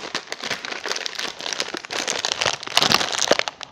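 Plastic packaging on a chocolate product crinkles and crackles loudly and close up as it is torn open, in dense irregular bursts that grow busier toward the end, with no voices.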